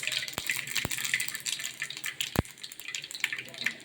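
Mustard and fennel seeds fry in well-heated cooking oil for a fish curry, a soft continuous sizzle and crackle with a few sharp pops, heard alone without talk.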